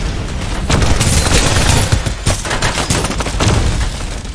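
Rapid bursts of automatic gunfire and heavy booms in the shooter game Farlight 84, loud and close, with repeated volleys and sharp cracks.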